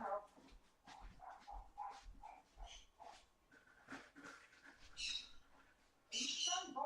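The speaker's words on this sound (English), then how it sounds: "Are you done barking?" A dog named Charlie barks and yips in short bursts through a busy room, the calls mixed in among people talking nearby.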